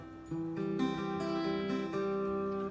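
An acoustic guitar chord is strummed and rings out, with a couple of softer restrums keeping it sustained; no talking.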